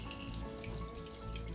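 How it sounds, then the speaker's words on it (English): Cold water running from a tap over raw pork in a stock pot, a steady close splashing rush without pause. "I will rinse it a little bit with some cold water"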